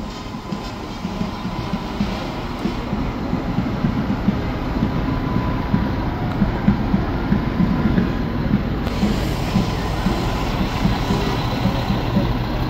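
A former Mack fire truck rolls past in a fire department anniversary parade, its engine giving a loud, steady low rumble throughout with no break.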